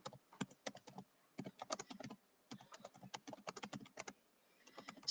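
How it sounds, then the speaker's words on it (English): Bursts of quick keystrokes clatter on a computer keyboard, close and clear, in rapid irregular runs separated by short pauses, with no one talking. "Sorry, I'll just type."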